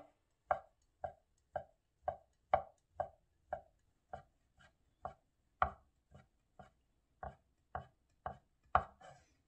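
A knife chops rolled ingredients finely on a cutting board for chiljeolpan, a Korean dish, with about eighteen crisp, evenly spaced knocks at a steady pace, close and clear with no talk.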